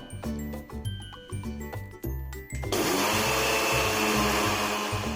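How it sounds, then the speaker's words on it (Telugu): A mixer grinder whirs into a loud, steady grind of sugar with Bombay rava (semolina) after a couple of seconds, continuing under background music. "ఇవి 2 కలిపి మనం మిక్సీ పట్టుకుందాం."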